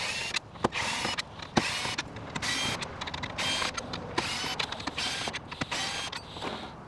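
A power driver with a number 3 Phillips bit backs self-forming screws out of a trailer tracking-device bracket, producing a steady close whirring with brief grinding and creaking bursts.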